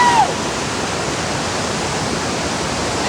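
Mandavkada waterfall roars as a steady, loud wash of falling water, broad and unbroken throughout, with a brief faint high tone at the very start.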